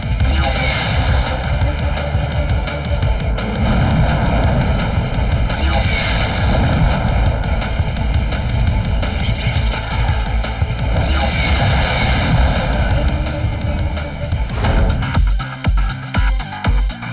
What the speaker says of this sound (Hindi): हमें सबसे पहले जाकर उन 2 फाइटर जेट्स का सामना करना है जो हमारे प्लेन को घेरे हैं।